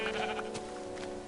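A Minecraft sheep bleats, a short nasal baa heard clearly and alone in this video game.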